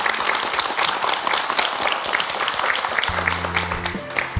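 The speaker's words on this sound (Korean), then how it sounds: "이 가정의 꿈이 꼭 이루어지기를 바라면서 큰 박수 보내드릴까요?" A TV studio audience gives loud, sustained applause that continues throughout. A low musical tone enters under the clapping toward the end.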